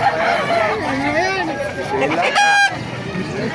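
Chickens cluck and a rooster crows amid the bustle of a poultry market in Baliuag, Bulacan, Philippines, with people talking nearby and a sharp honking call near the end.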